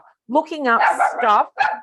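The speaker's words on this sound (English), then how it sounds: "Please excuse my dog in the background." A pet dog barks a few short times in the background of a home kitchen, sitting partly beneath a person's ongoing talk and ending with a brief separate bark.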